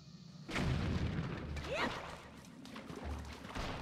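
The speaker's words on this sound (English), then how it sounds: "by throwing a bomb over there." A bomb goes off in The Legend of Zelda: The Wind Waker HD, inside the Forbidden Woods: one sharp boom about half a second in, then a rumbling tail with a rising whistle-like sweep and small bursts afterward. Nobody speaks.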